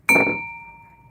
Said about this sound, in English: Hear that singing? That's how you know it's crystal.